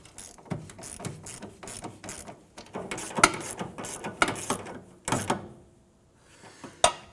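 A ratchet wrench snugging a fuel tank strap bolt under a 2005-2021 Nissan Frontier 4.0L V6, rapid clicking pawl bursts in several uneven runs, close up, with sharp metallic knocks between strokes.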